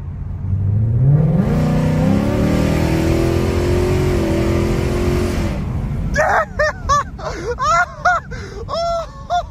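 A car running on E85 fuel accelerates hard in normal mode, engine rising loudly and steadily in pitch from near, then dropping off as excited voices break in over the fading engine.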